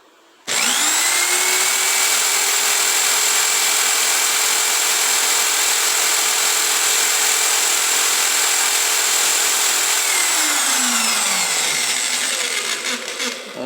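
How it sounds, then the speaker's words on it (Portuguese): An electric drill whirs up abruptly and runs at a steady high-pitched whine for about ten seconds, then spins down, close and loud with no talking. "Essa furadeira ela tem 2 níveis de velocidade"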